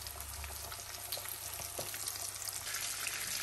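Japanese fried chicken pieces sizzle in hot oil, a soft, steady crackle and hiss with faint pops throughout.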